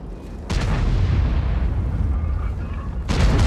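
A tank cannon fires in World of Tanks, two heavy booming shots roughly two and a half seconds apart, each a sharp loud blast trailing into a rumbling decay.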